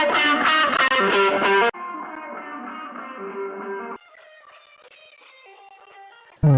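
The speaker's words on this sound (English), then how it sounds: "I reamped all of the guitar parts to give it a little bit more realness" Reamped electric guitar parts layered with a pitched octave for added harmonics play within a music mix, distorted chords in short sections that cut abruptly from full and loud to thinner, quieter passages, with no voices.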